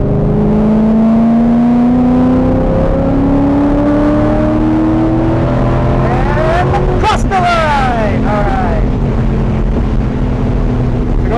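A homemade DIY race car engine held at wide open throttle, a loud sustained drone with rising pitch sweeps and sharp revving bursts partway through, with voices talking over it.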